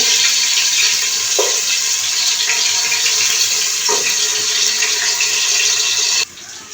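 Ground garlic paste sizzles in hot oil in a pan, a loud, steady frying hiss that runs on without a break and cuts off just before the end.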